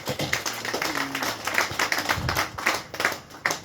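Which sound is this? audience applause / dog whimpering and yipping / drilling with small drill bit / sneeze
audience applause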